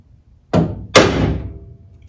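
A center punch struck against a rivet in the interior door handle of a Chevrolet Malibu during a rebuild, giving two sharp metallic taps about half a second apart, close and loud, each ringing briefly before fading.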